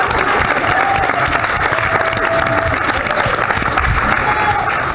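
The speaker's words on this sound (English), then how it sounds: "No applause for your boss?" A roast audience breaks into dense, steady applause that holds at full strength for the whole stretch, with crowd murmur and scattered voices mixed in.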